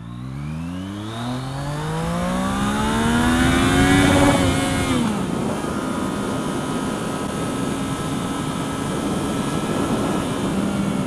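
Yamaha MT-09 motorcycle engine revving hard as the bike accelerates in A riding mode, the rising harmonic whine climbing steeply through the gears with a brief dip at a shift, then a steady loud drone with wind roar close by.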